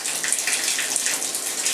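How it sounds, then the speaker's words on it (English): Water running from an outdoor spigot, a steady splashing gush that holds loud and close throughout, with no talking over it. "we're going to take some water right out of the spigot right here that would normally go into the tub"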